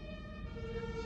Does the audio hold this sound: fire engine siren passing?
yes